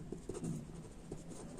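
Pen or pencil writing on paper while an economics problem is worked out, a soft continuous scratching with a few short strokes, close and quiet, with no talking.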